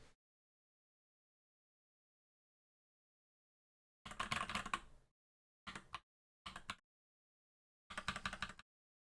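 Separate keystrokes on a mechanical keyboard fitted with Team Liquid Star Wars keycaps, arriving in four short clacking bursts after a long silence, one of them a longer run of presses, each crisp and close.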